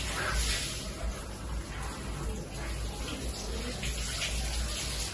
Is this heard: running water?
yes